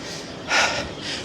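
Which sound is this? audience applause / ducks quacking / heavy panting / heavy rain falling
heavy panting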